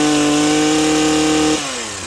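A STIHL HS82R gas hedge trimmer engine runs at a loud, steady, high-pitched rev close by, then drops abruptly to a lower speed near the end.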